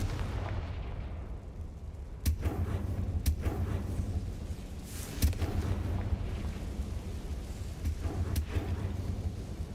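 Repeated blasting-spell explosions in a Harry Potter video game, several sharp loud booms over a dense rumbling background with a steady low roar.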